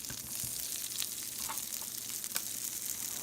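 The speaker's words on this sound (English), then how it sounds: "Butter's melting! Butter's melting!" Butter melts in a hot pan with a soft, steady sizzle and faint crackle, close by and fairly quiet, before potatoes go in.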